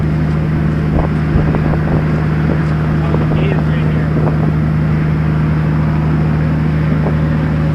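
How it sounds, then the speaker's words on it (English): Cummins ISX diesel engine idling with a loud, constant low rumble and a steady drone, heard up close outdoors during corn harvest, with occasional faint knocks over it. "Make sure it's in neutral and start it."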